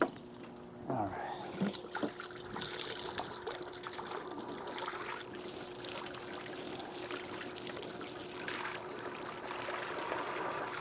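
Running water from a tap pours and trickles steadily while a grill or cooking tool is rinsed clean outdoors, a continuous splashing hiss with a voice talking over it.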